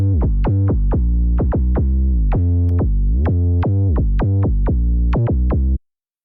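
Saturated synth bass run through a phase rotator plugin, first placed before the saturation and then after it, giving a loud, buzzy repeating bass riff of quick plucked notes with a slight tone change partway.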